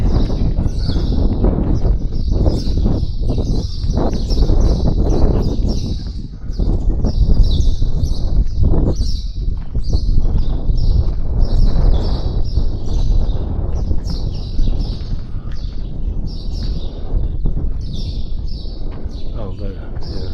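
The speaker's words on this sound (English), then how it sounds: "Seems like a haven for birds." Birds chirp repeatedly at Hagar Qim temples in Malta, a steady chorus of high calls running over loud wind noise and people talking close by.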